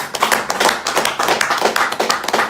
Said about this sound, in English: please clap for all our viewers